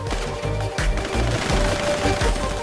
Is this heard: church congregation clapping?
no